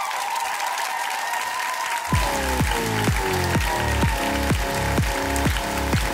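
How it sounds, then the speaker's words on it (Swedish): Warm applause for a guest on a Swedish talk show swells into dense, loud clapping, while music with a repeating descending pattern plays over it after the first couple of seconds. "ge en varm applåd till Maria Sveland!"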